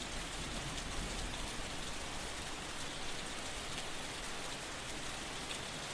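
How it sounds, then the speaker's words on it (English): Steady rain falls at night in a dense, even wash of drops on surfaces, constant and unbroken throughout with no voices. "The rain had been falling for hours, soaking every stone, every rooftop, and every scrap of forgotten paper littering the narrow streets."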